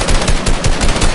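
Rapid automatic gunfire from shooting at a player in the Fortnite console game, a loud, dense burst of shots running continuously through the short clip with no talking.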